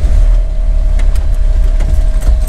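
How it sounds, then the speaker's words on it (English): A four-wheel-drive vehicle backs slowly down a hill on a scenic drive near Utah Lake, with a loud, close low engine rumble, a thin steady whine above it and faint knocks and creaks. "Why don't you back down just a little bit and get us kind of turned around so we're heading down the right way"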